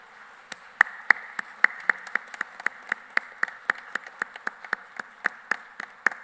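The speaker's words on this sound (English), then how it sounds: "Now give all your loved ones a round of applause for that amazing support." Graduates at a university graduation ceremony clap for their loved ones, a sparse, distinct rhythm of individual hand claps spaced fairly evenly and fairly close, with no talk.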